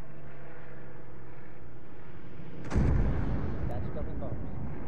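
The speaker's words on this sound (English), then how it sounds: "That's dropping bombs." Bombs dropped from a plane explode in the World War II Arma 3 battle for Mortain, a sudden heavy boom that rolls into a long, loud rumbling tail after a steady engine drone.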